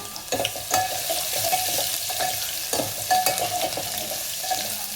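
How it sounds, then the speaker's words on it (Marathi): Curry leaves and coarsely crushed garlic sizzling in hot oil after mustard seeds have popped, a steady close crackle with occasional sharper pops and stirring. "ते पण तडतडल्यावर कढीपत्ता टाकून घेऊया. आबडधोबड चेचलेला लसूण. आता ते चांगलं तेलात लाल होऊ देऊया."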